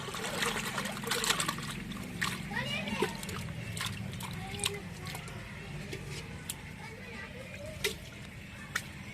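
Running water splashes and trickles steadily with occasional splatters as chicken is washed, while a person talks over it close by.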